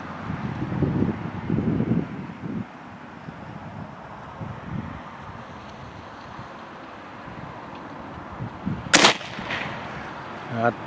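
One sharp air rifle shot firing a Rat Sniper slug at a 50-yard target outdoors, a single crisp crack near the end. Before it come wind buffeting and low muffled rustling, with a voice at the start.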